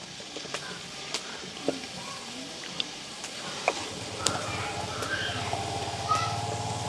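Brinjal stirred and frying with tamarind in a pan in a village kitchen, with a steady low sizzle and occasional scraping clicks of the spoon, growing slightly louder toward the end.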